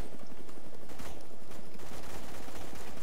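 A minigun firing in a video game, a dense, continuous stream of rapid shots with no gaps, loud and close throughout.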